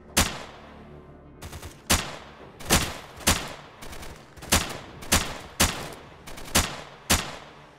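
Vintorez suppressed rifle fire in the video game STALKER, shooting at zombified enemies: about eleven sharp single shots in an uneven rhythm, loud and close with short tails and no talking.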